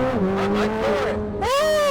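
A 1120 hp world-record Chevrolet Corvette C8 ZR1 launches at full throttle, its engine note climbing loud and close through a gear change and rising again, with no talk.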